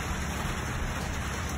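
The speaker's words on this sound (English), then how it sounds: "It's starting to rain. I might get rained out" Rain falling in a small park in Wilburton, Oklahoma, a steady, even hiss of drops with no breaks, and no one talking.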